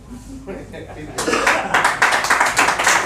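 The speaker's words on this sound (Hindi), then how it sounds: "तालियां अभी आधे लोगों ने बजाई, आधे लोगों ने नहीं बजाई है" A live audience claps in a meeting hall after someone speaks, the applause thin and scattered, about half the crowd joining in over a few seconds.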